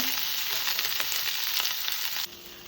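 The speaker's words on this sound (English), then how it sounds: "we are sauteing this a bit in the olive oil just to bring out the flavors" Vegetables sauteing in olive oil over high heat on a stove for asparagus soup, giving a steady, close sizzle throughout that drops to a quieter hiss near the end, with no talking.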